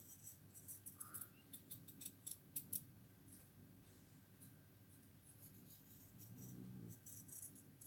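Scissors snip through fabric while a dressform pin cushion pattern is cut out, giving a quiet series of short close-up cuts and rustling paper or cloth with no talking.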